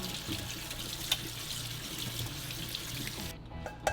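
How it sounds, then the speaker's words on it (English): Cold tap water runs steadily over freshly strained ziti pasta in a home kitchen sink, a continuous rushing splash with a few small knocks, then it cuts off near the end. "I'm gonna strain it, put some cold water on there so it doesn't cook anymore"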